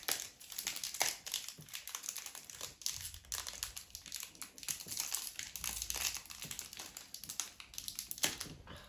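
Crinkly plastic foil of a Pokémon card booster pack being torn open and unwrapped up close, with steady rustling, crackling and a few sharp tears throughout.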